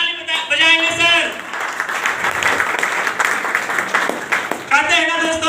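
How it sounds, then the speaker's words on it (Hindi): Audience applause at a celebration event, a dense wash of clapping that swells after someone speaks and fills the middle, with his voice returning at the start and end. "आप लोग अपने आप के लिए एक बार जोरदार ताली बजाएंगे सर"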